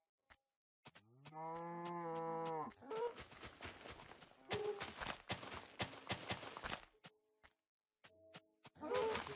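Minecraft cow mooing in a drawn-out, harmonic low call, with busy game noise, footsteps and clicks around it and later bursts of hit and movement sounds.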